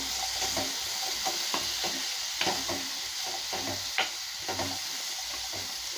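Pumpkin poriyal sizzles steadily in a pan while a spoon stirs it, giving repeated soft scraping knocks over a continuous frying hiss, fairly quiet and close, with no talking.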